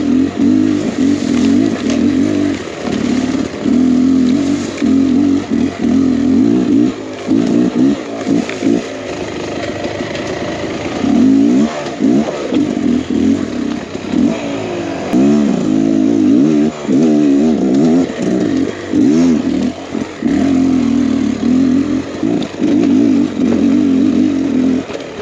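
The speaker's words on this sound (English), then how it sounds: "what you guys think of the sound of the bike. Definitely has some trial sound to it for sure." A 2023 Beta X Trainer 300 trial motorcycle engine ridden off-road, loud and close, with a raspy two-stroke note that surges and drops in constant blips of throttle over twenty-five seconds.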